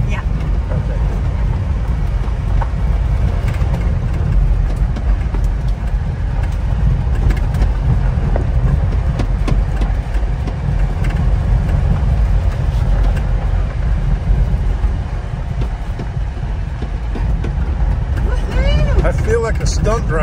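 A small Honda ACTY mini truck driving on a bouncy dirt road, its engine a steady low drone with rattling and road rumble from inside the cab, while people talk over it.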